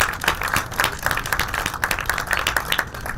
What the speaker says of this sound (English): So if we can give applause to our team, we greatly appreciate it.